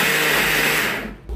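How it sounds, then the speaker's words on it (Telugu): Mixer grinder grinding coconut in a home kitchen, a loud steady whirring roar up close that dips briefly near the end before surging again. "తురవటం కాని వాళ్ళకి ఇలా మిక్సీ పట్టేయచ్చు"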